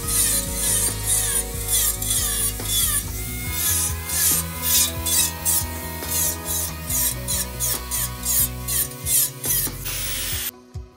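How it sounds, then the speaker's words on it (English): Excess fasteners being cut off a metal smokeless burn barrel, giving a steady, loud rasping grind that runs almost without pause, rising and falling in bursts before stopping abruptly near the end. "I'm gonna come by and cut the excess fasteners protruding out of the barrel off."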